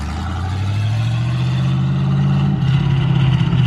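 A Corvette running with no exhaust roars loudly and steadily, its deep engine note climbing in pitch as it pulls away, with no talk over it.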